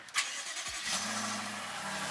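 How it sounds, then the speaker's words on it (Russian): A BMW X5 M50i's 530-horsepower V8 cranks on a cold start and catches, then settles into a steady low idle hum after a brief starter whir. "Давайте проверим, как X5 M50i звучит при пуске на холодную."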